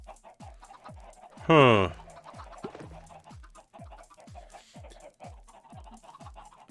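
Minecraft chickens in a pen cluck softly and repeatedly, with one louder, sharper squawk early on, over a steady rhythmic thumping background and a brief muttered word.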